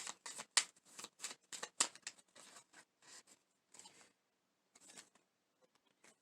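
Tarot cards are shuffled and straightened in the hands, producing quick bursts of papery riffling and tapping, busy at first and then thinning out into sparser, softer taps.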